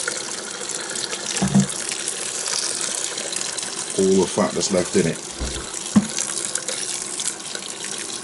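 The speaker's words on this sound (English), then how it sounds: "I've got a kettle of boiling water, and I'm just going to rinse that" Boiling water poured from a kettle splashes and runs over beef to rinse away the fat, a continuous hissing gush with a few clinks, while a person talks over it.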